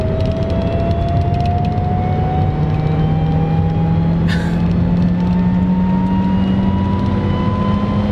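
A supercharged Honda CR-Z engine, downshifted and in sport mode, accelerates with a loud, steady drone and a whine that climbs in pitch throughout, heard from inside the car with no talking.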